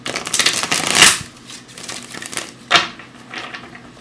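Oracle cards are shuffled by hand for a Journey of Love card reading, giving close, crisp riffling with two sharper bursts and softer handling between.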